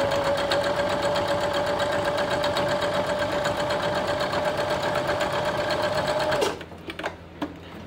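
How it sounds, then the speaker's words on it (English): A sewing machine stitches a Dutchman's Puzzle quilt block in one steady, loud, even whirring run of rapid needle beats, stopping abruptly near the end and followed by a few faint handling clicks. "Bring in the machine."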